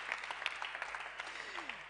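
Audience applause at a diversity round-table event, a steady patter of clapping from many hands, moderately faint and continuous throughout, with no one speaking.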